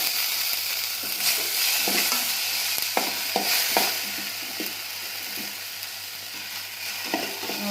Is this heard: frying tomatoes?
yes